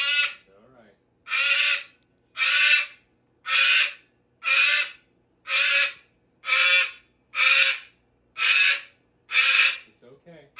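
A pet cockatoo squawks loudly and close by, giving about nine harsh, evenly spaced calls in a steady rhythm with short gaps between them.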